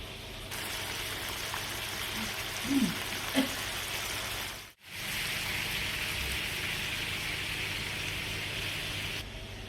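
Honey and sweet chilli chicken thighs frying in a pan, a steady close sizzle with a couple of soft pops and a brief dip midway.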